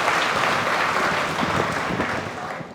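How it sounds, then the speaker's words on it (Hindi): Sustained applause from a seminar crowd welcoming a speaker, steady and fairly loud throughout, tapering slightly at the end. "जोरदार तालियों के साथ सर का स्वागत कीजिए।"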